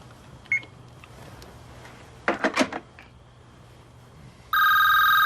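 Near the end, a telephone breaks into a loud, sustained electronic ring. Before it come a quiet room tone, a soft tap, and a brief cluster of clattering knocks.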